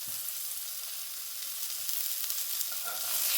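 Duck breast sears steadily in a hot pan over lowered heat, a fine continuous sizzle with faint crackles throughout, close and moderately loud with no talking.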